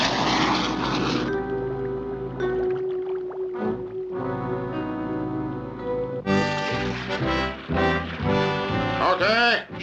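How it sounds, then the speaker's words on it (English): A boat engine in the Super Six animated series drones steadily with a humming, tonal pitch, running under voices and background music throughout. "Okay, stop engine."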